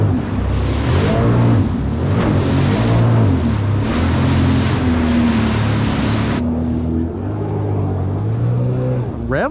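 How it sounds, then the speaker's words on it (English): A Sea-Doo Spark Trixx personal watercraft engine roars loud and close on the water, revving hard into the rev limiter with repeated stuttering bursts before easing off, its drone rising and falling amid splashing. "Rev limiter."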